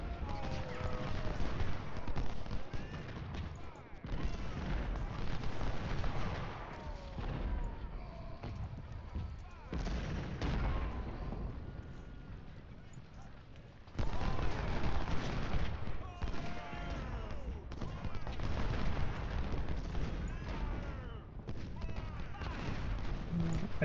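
Sustained musket gunfire and artillery booms from a Civil War battle at Malvern Hill in Ultimate General: Civil War, rolling in dense bursts throughout while a voice talks over the fighting.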